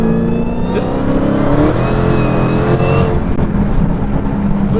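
A 1,000-horsepower Dodge Challenger Hellcat accelerates hard and breaks traction, its loud, close engine roaring continuously with rising pitch and tire noise throughout, no talk over it.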